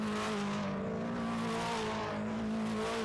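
A TVR Tuscan race car accelerates on a track in a 2003 TVR Tuscan Challenge race, a continuous loud engine drone with a strong steady tone that rises slightly in pitch, without talk over it.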